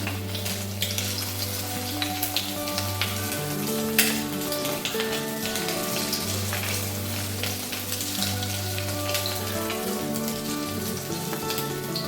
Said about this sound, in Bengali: বড়াগুলো এখন ভেজে নেবো